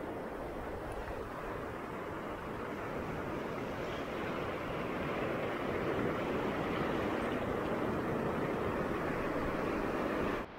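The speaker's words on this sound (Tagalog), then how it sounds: "Ang lalaki ng mga alon mga boss" Large ocean waves roll and break continuously along a shore near a fishing spot, a dense, loud, steady wash of surf with wind mixed in and no voices.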